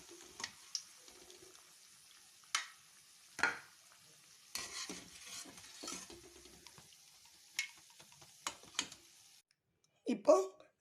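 Sweet bonda frying in oil makes a soft, faint sizzle, broken by scattered sharp clicks and taps of a utensil against the pan, with a brief louder clatter near the end.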